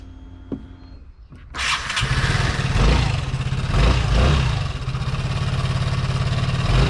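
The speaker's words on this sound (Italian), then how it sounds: "Ok, vediamo se lo scooter si accende." A scooter engine cranks briefly and then starts after a battery replacement, catching at once into a steady, loud, buzzing idle up close, with no talking.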